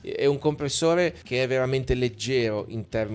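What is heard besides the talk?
No distinct noise like a dog, phone or traffic.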